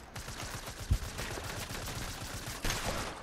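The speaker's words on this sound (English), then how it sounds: "Got him with the hand cannon." Hand cannon shots in a Fortnite match, a dense spray of rapid gunfire crackling throughout with one heavier blast standing out near the start, loud and continuous without speech.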